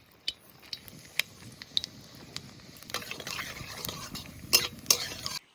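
Dried red chillies and black cumin hit hot mustard oil in a wok, giving a soft sizzle under scattered clinks and scrapes of a utensil against the metal, quiet and close.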